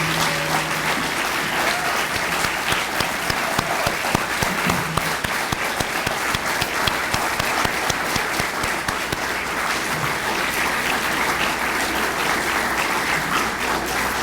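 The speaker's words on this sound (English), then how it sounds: "we're going to applaud for you again" A brunch audience applauds standing scholarship recipients with sustained, crisp clapping that holds steady for many seconds and fills the room.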